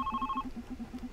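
A telephone ringing in the game The Red Strings Club, a quick run of trilling electronic rings heard alone, close and moderately loud.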